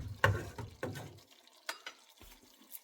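Tomatoes frying in oil over medium heat for a vegetable Kolhapuri, a faint sizzle under a handful of separate close spoon scrapes and clinks against the pan, quiet, with no one talking.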